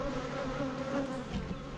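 Honey bees hum in a steady, dense drone at an open hive in a nuc yard, close and continuous, with no talking.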